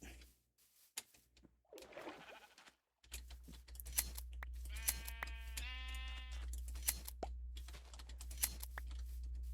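A sheep lets out a couple of wavering, nasal bleats in the middle of the stretch, close and clear over a steady low hum, amid quick clicking taps like keyboard typing.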